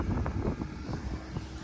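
A steady, low engine rumble drones on at a moderate distance, with gusty wind buffeting the microphone throughout.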